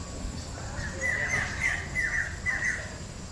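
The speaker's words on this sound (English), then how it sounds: "loads of these white birds up in that tree" White birds high in a tree canopy at a Singapore bird park let out a run of about four harsh squawking calls at a moderate distance over quiet ambient background noise.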